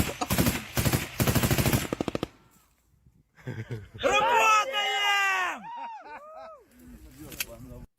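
Bursts of automatic machine gun fire during Ukrainian military training, rapid loud volleys at the start followed by shouting voices and a short later burst.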